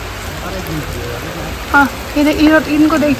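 Heavy rain pours in a steady, loud hiss throughout, while someone talks over it in the foreground.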